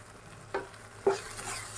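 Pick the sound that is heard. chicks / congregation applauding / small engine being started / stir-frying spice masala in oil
stir-frying spice masala in oil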